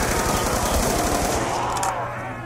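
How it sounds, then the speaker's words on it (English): Death Machine minigun in Call of Duty zombies roars in a sustained, rapid-fire burst, loud and continuous, tapering slightly near the end. "Not the death machine, that's a bad gun."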